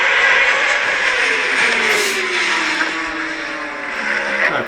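A Honda race car screams down the start-finish straight, its high engine note rising steadily and pulling away, loud and continuous with other engine noise around it.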